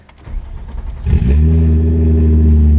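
A Volkswagen Golf engine starting after wiring work: a few clicks, the starter cranking briefly, then the engine catching and settling into a loud, steady idle up close.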